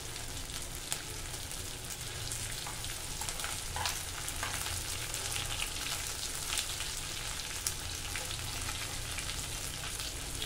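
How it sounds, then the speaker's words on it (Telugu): Fish frying in a pan crackles and sizzles steadily and close, a dense hiss of hot oil with occasional sharper pops throughout and no talking. "Fish fry."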